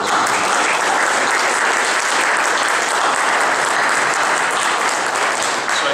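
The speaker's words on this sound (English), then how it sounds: "and they deserve another round of applause." Sustained applause from a crowd at a Cash for Coats press conference fills the room, steady dense clapping at full volume from start to finish with no voices on top.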